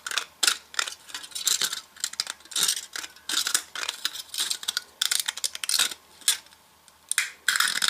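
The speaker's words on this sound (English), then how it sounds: "slowly, carefully cut right along the line with my scissors" Scissors cutting slowly along a marked line through a thin metal can, producing a close, steady series of crisp clicking snips and scraping crunches, with no talk.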